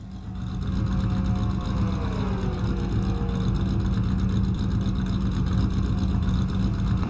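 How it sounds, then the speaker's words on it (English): Stock car engine in the Nascar Racing 2003 video game, a steady loud drone that holds at high revs throughout with a slight pitch sweep early on. "Listen to that engine."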